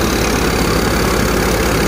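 A tractor engine drives a Mukandgarh thresher machine, a dense, constant mechanical roar with a low throbbing hum, loud and close throughout with no speech.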